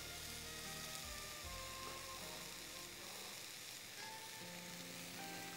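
Onions and spices sautéing in a pan on moderate heat, a faint steady sizzle with a couple of soft stirring knocks early on, distant and quiet, with no talk.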